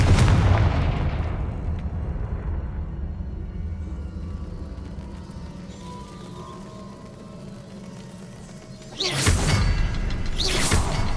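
A Confringo blasting spell goes off in Hogwarts Legacy, a loud whooshing burst at the end following a long low rumbling game ambience, two sharp explosive blasts close together.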